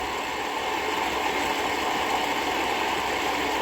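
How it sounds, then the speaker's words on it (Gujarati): A diesel pump engine runs on a farm with a loud, continuous droning rumble and an even mechanical hum, heard close and steady with no break and no voices. "ડીઝલ પંપ હાલે છે."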